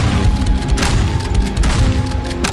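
Dense, continuous weapon fire and booming effects from an Android zombie shooter game, loud and sustained throughout without speech.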